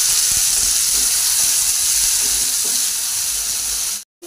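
Chopped tomatoes hit a pan of hot ginger-garlic paste, giving a loud, steady sizzle and frying hiss that runs almost unbroken before cutting off abruptly near the end.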